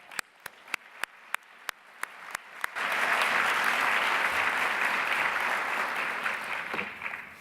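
A few sharp, isolated claps ring out at a steady beat, then the room breaks into full, sustained applause for Congressman Louis Stokes at a science program's 25th-anniversary event.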